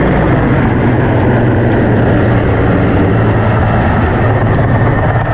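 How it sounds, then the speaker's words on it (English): Helicopters dropping fire retardant over a raging wildfire fill the air with a loud, steady, unbroken roar of rotor and engine noise that holds for the whole stretch, with no voices. "helicopters drop fire retardants onto a raging wildfire"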